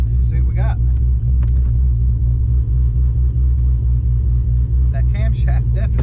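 A supercharged Dodge Challenger R/T with a meth injection kit rumbles at low, steady engine tone while driving, heard from inside the cabin, with occasional voices talking over it.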